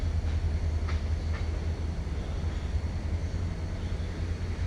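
On a hot day, a train rolls by outside an open window as a steady, distant low rumble with faint rattling on top.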